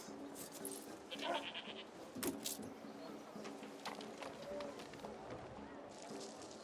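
Goats in the video game Anno 1800 let out short bleats over a busy game-world ambience with scattered clicks and tones, the calls moderately close and intermittent.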